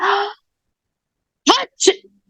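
A storyteller's voice imitates a sneeze, first a drawn-out vocal intake, then after a pause two sharp, explosive bursts in quick succession, close and clear.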